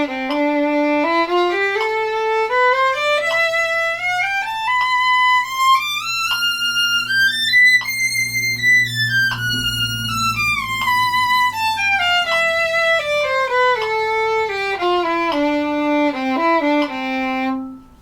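A violin plays a rising then falling scale in a rhythm substitution pattern, the first note of each group held longer than the next three, bowed steadily and close with no talk.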